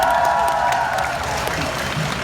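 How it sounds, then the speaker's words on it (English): A Comic Con panel audience in Utrecht breaks into applause, a dense crowd clapping with scattered cheers, while a steady tonal hum runs beneath and slowly fades, the clapping holding fairly constant. "Give yourself a round of applause"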